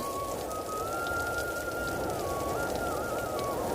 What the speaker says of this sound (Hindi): वहाँ पर थोड़ी देर बाद बारिश शुरू हो जाती है।